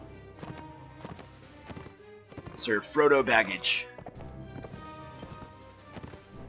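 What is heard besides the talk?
horse hooves while riding in Mount & Blade Warband video game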